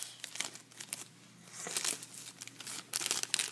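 Plastic and cardboard packaging of a Beyblade Zero-G Gladiator Bahamdia toy is torn and crinkled open by hand, making close, continuous rustling with sharper tearing bursts near the end.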